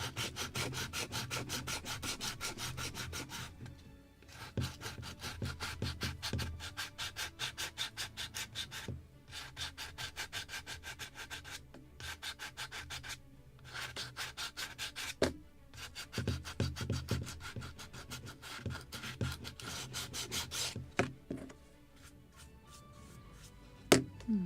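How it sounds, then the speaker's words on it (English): Steady rhythmic sanding strokes on a wooden model boat hull, a dry rasping rub repeated close up with brief pauses between passes. "So now we just need to finish sanding actually the hull."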